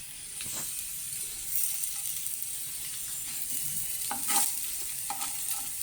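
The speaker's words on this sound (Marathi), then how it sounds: "आता हे परतावं लागेल आपल्याला." Vegetables for Goan Saraswat rava-fried kampa sizzle gently in oil over low heat, with close, intermittent scraping and stirring clatter against the pan and no voices.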